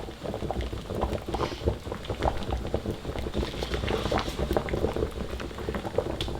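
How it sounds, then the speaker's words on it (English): Lasagne sheets boiling in a pot, with dense, continuous bubbling and popping at a steady low level and no voices. "we're going to give them a quick boil, just around 4 to 5 minutes"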